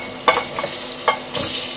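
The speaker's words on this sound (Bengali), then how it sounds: "চলো ঝিঙেটা ভেজে নিচ্ছি হালকা করে, একটু লাল লাল করে।" Ridge gourd pieces fry in hot oil with turmeric, a close, soft sizzle broken by a few quick stirring scrapes in a short burst.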